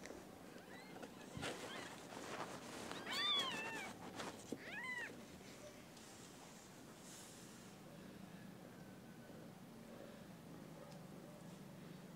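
A kitten gives several high, thin meows in a quick cluster, then the sound settles into quiet background noise with faint rustling.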